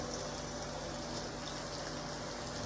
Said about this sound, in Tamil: இதில் கொஞ்சமாக ஒரு கால் கப் மட்டும் நம்ம தண்ணி சேர்த்துக்கலாம்